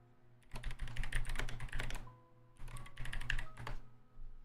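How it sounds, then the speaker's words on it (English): Two bursts of rapid typing on a computer keyboard, dense clattering keystrokes close to the microphone with a short pause between them, over a faint steady background hum and with no talk. "Hold on. I'm typing it out."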